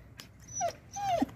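A dog gives two short whimpering whines close by, each rising and falling, with quiet room noise between them.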